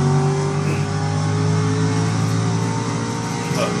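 Racing simulator car engine on an RC Evo rig, a steady loud droning whine with sustained tonal harmonics across the whole stretch and slight pitch shifts as the gears drop.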